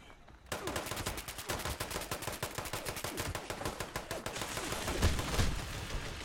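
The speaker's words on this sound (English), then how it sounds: "I said quit shooting, Julian." Gunfire in the video game Fallout 76 rattles along in dense, rapid automatic bursts that continue almost without a break throughout.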